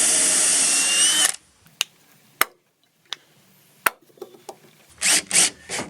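A drill boring holes in a new oak deck for a gooseneck trailer: a loud whirring burst at the start, then sharp knocks and taps with quiet gaps, ending in short drill bursts.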